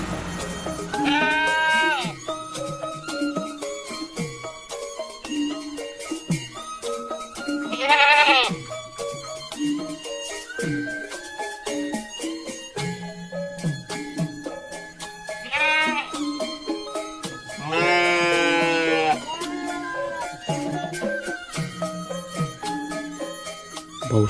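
A cartoon sacrificial goat for Eid bleats several times in wavering calls, spaced out against a busy background of music and other sounds.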